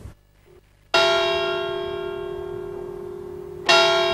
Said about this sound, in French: La vieille cloche Marie, âgée de près de 5 siècles, retentit encore